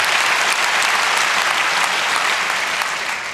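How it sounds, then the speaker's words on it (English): Loud, dense audience applause fills a hall at a hardware hacking and ARM exploitation conference talk, holding steady and tapering slightly at the end. "I appreciate your pandering applause."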